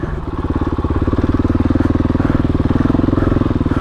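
KTM 500 EXC-F single-cylinder dirt bike engine ridden off-road over rough, rocky, off-camber terrain, a loud, close, rapid pulsing thump that rises and holds steady.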